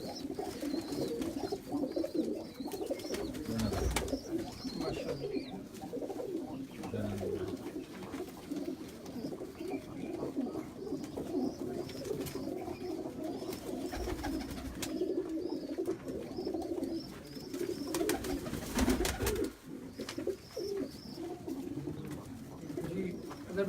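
Pigeons of a prized breed coo on a rooftop loft, soft low rhythmic coos repeating steadily throughout with occasional flutters and faint background chatter.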